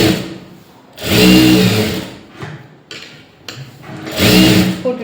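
Sewing machine stitching a blouse lining in a few short loud bursts separated by brief pauses and handling sounds, close-up with no talk.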